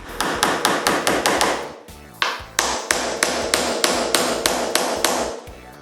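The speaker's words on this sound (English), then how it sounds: "Now, I nail the 4 top moldings." A hammer drives nails into four wooden top moldings during a bedroom wainscoting makeover, striking in a steady series of sharp, loud, close blows with a brief pause midway, no talk.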